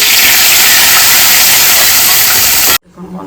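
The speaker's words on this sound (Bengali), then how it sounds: "এবার পাঁপড়গুলো এত সুন্দর চুরবুর করে ভেজে উঠছে" Sago papad frying in hot oil in a wok, a loud, dense sizzling crackle that fills the scene steadily and then cuts off abruptly near the end.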